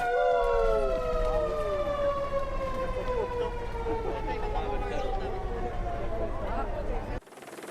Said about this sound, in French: Il va avoir un klaxon sur le camion de pompiers.